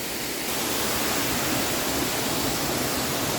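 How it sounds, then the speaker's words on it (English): A waterfall roars as a steady, dense rush of water, loud and unbroken from start to finish. "Whoa, a nice waterfall,"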